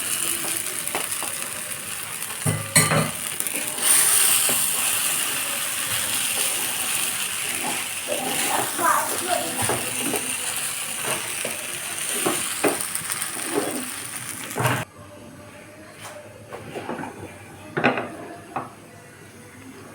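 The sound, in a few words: stirring flattened rice (chira) in pan for polao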